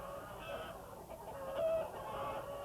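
Hens clucking and murmuring steadily at moderate distance, with one brief higher call standing out, and no talking.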